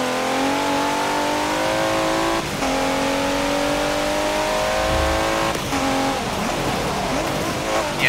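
A Nissan GT-R Black Edition engine in Forza Motorsport 7 drones loud and steady, with its pitch climbing through gear changes and a brief tire scrub near the end.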